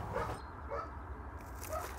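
A dog gives soft, high whimpers at the start, middle and end while learning to work a door-opening mechanism, heard over a steady low background hum.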